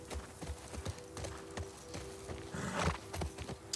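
Horse hooves clip-clop in a steady walking rhythm through a city setting in The Last of Us Part 2, the footfalls fairly close against a low steady background hum, with a slightly louder scuffle near the end.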